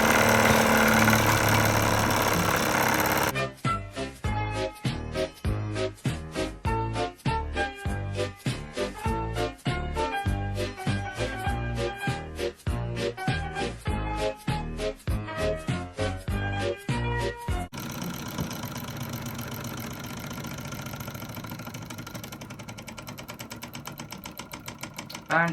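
A vintage Mamod SP2 steam engine, leaking steam, chuffs in fast, rapid mechanical beats up close, then falls away to a softer hissing as it slows, after an opening stretch of steady rushing steam.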